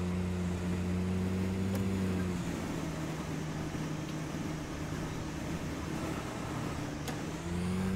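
An off-road vehicle in the video game Call of the Wild: The Angler rumbles over rough rocky terrain, a steady engine drone that shifts pitch partway through with faint knocks, continuous and fairly close.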